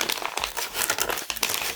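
Parcel packaging cut open with scissors, a continuous crinkling and rustling of plastic wrap with a few sharper snips, close and fairly loud, with no talking.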